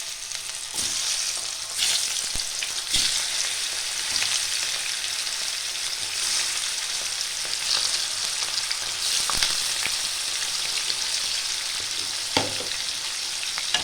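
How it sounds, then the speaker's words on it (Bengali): Fish frying in hot oil in a pan, giving a loud, steady, close sizzle throughout with a few faint clicks and taps of stirring. "এবার আমি মাছগুলোকে ভাজবো। তেলটা ভালো করে গরম হতে হবে।"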